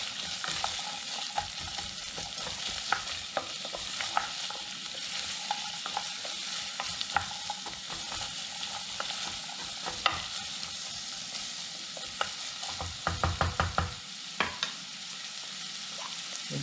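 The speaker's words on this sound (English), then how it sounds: "Give it a good stir." Celery and vegetables stirred in a hot pot for a chicken and vegetable stew, with a continuous sizzle and repeated scraping clicks of a utensil, including a quick flurry of taps near the end.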